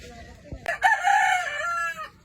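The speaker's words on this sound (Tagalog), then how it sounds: "Yan, lalabas niya yung manok niya." A rooster crows once, loud and close, a long strained call rising then tapering off.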